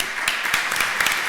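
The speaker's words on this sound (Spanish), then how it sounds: "un gran aplauso, agradecemos a nuestras y nuestros expositores" Audience applauding at an arts forum panel, a steady wash of many hands clapping with a few sharper claps standing out, continuous through the moment.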